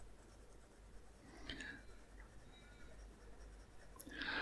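Nib of a fountain pen scratching softly across 100 GSM lightly textured cream paper, faint close strokes in a quiet room with a few slightly louder scrapes.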